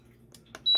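An air fryer's timer is set with a couple of short button clicks, then a sharp, high electronic beep sounds close by at the end.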